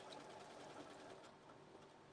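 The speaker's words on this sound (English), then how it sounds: "The sewing machine." A sewing machine stitches an appliqué border in a fast, steady mechanical whirr with a rapid needle rhythm, heard close but quietly and with no talking.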